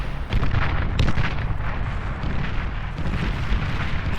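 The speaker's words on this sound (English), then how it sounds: "And Shaz Commander destroyed" A commander unit is destroyed in the real-time strategy game Beyond All Reason, a loud rumbling explosion with booming blasts and crackling debris that stays dense for several seconds, no voices over it.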